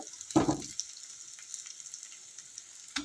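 Dosa batter jalebi fries in hot oil with a soft, steady sizzle, punctuated by a couple of louder knocks and clatters of a utensil.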